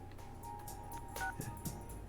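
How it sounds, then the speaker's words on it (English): A landline-style telephone rings in the Persona 4 Golden video game, with a steady electronic tone pulsing through quiet in-game background sounds over about two seconds. "Phone!"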